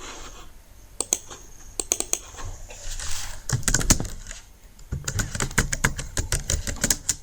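Fingers typing a title on a computer keyboard in Excel, close and fairly quiet, with bursts of rapid key clicks separated by short pauses.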